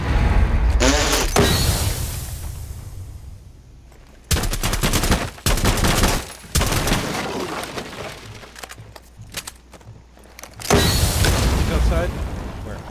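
Bursts of sharp gunfire in the video game Rainbow Six Siege crack out in several clusters, with loud shots separated by quieter gaps of muffled background noise.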